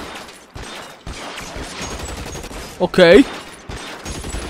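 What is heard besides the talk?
gunfire in a video game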